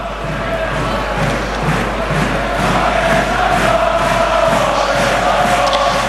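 A rugby stadium crowd at a USAP Perpignan versus Clermont match sings together in a loud, sustained roaring chant, broad and reverberant with rhythmic swells and no clear commentary over it.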